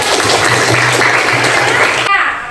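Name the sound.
classroom applause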